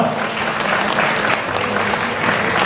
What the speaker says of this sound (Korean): 환영의 박수로 모셔보도록 하겠습니다